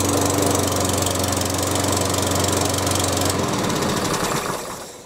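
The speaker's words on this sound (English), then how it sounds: "And as you saw, start the lawnmower." A Hyundai HYM430SPE self-propelled electric-start petrol lawnmower engine runs steadily and loudly up close, its rough drone cutting out and fading near the end.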